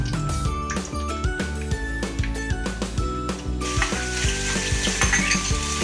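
Mustard seeds crackle and pop in hot oil in a pan on the stove, a dense close sizzle with scattered sharp spits throughout, no voices.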